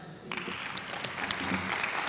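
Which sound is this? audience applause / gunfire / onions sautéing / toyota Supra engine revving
audience applause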